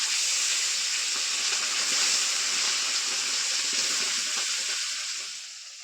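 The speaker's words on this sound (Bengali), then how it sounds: "এখন তেরে মাছগুলো আগে ভেজে নিচ্ছি" Four pieces of tilapia fish fry in oil, giving a loud, steady hissing sizzle close by that continues evenly and then eases off at the very end, with no talking.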